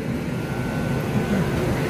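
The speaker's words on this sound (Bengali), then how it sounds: "আমাদের এই ট্রেন গুন এক্সপ্রেস এখন ছেড়ে দিয়েছে।" The Doon Express passenger train pulls away on its Kolkata to Rishikesh run, a steady low rumble and rolling hum of the carriages, constant and moderately loud with no voices over it.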